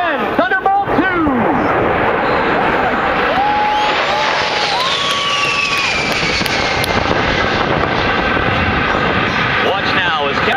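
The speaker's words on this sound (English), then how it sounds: "from behind and to your right, Captain Shetterly and the A-10 Thunderbolt 2." An A-10 Thunderbolt II jet performing at an airshow in Denton, Texas, its loud engine whine sweeping and shifting in pitch as it passes, continuous throughout, with an announcer talking and crowd noise underneath.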